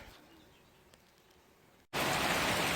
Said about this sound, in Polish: Zobaczcie, bardzo mocno pada, bez gradu, bez wiatru.